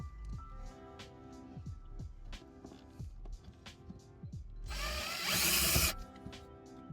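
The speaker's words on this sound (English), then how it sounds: "So we're just gonna push that a little bit in, and then we're gonna drill." A power drill whirs in short bursts, then runs in one louder sustained burst biting into a front lip spoiler on a 10th-generation Honda Civic Sport before stopping.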